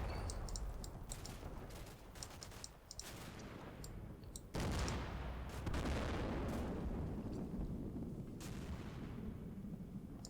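Mortar rounds burst one after another in the Combat Mission: Black Sea war game during a snowy battle. The blasts come as loud, heavy booms with a sharper crash near the middle, over continuous rumbling battle noise.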